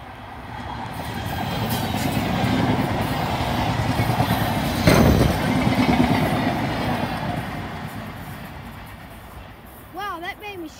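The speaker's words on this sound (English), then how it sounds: "Hey guys, we got an eastbound train coming." A MARTA eastbound train rushes past on the track, a loud rumbling roar that swells to a peak near the middle and fades, with a voice briefly heard near the end.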